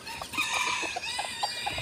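A hen near newly hatched chicks gives a run of short, close clucks, repeated in an uneven rhythm over quiet background.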